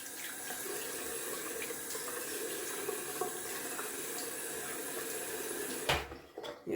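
A bathroom tap runs cold water for splashing the face, a steady close hiss of flow that cuts off near the end, leaving a few drips and small knocks.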